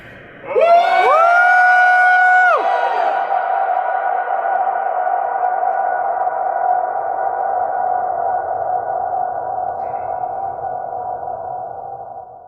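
A loud sustained sung or hummed tone swells out in a large high-ceilinged space, then hangs and slowly decays in a long, even echo that lingers for many seconds.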